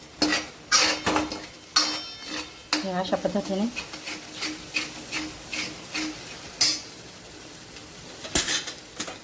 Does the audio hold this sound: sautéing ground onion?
yes